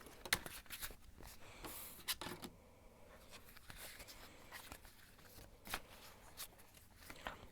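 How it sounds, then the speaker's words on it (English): Tarot cards being shuffled close by, a steady papery riffling with a few sharp snaps and flicks, no voices. "I'm going to shuffle and see what the cards have to say"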